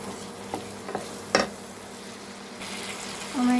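Mutton curry being sautéed in a pan, a continuous soft sizzle broken by a few spoon clinks and scrapes, with a short pouring sound near the end, no one talking.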